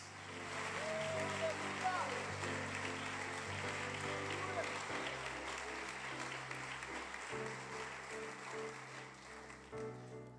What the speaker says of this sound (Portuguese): Vamos aplaudir ao Senhor mais uma vez?